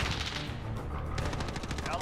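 Rapid video-game gunfire rattles in quick automatic bursts, some sharp, loud and close, filling the short stretch with no clear talk over it.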